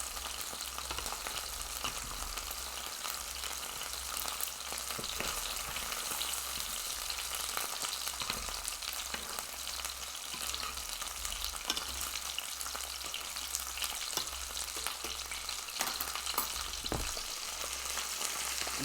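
Breaded chicken fingers coated in Honey Nut Chex crumbs frying in hot oil, a steady close crackling sizzle that runs unbroken, with occasional pops and light stirring.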